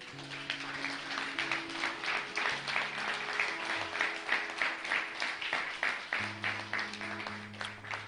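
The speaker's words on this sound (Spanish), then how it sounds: "Le damos un fuerte aplauso al Señor" A church congregation claps loudly and steadily throughout, with dense rhythmic applause and a sustained musical tone, likely from a keyboard, underneath.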